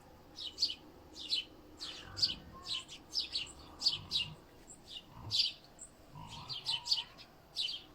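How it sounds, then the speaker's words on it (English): Small birds chirp and tweet outdoors on the Chilcotin Plateau at sunrise, a steady run of short, bright calls repeating about every half second, moderately near over a quiet rural background. "I know you guys can hear the birds chirping"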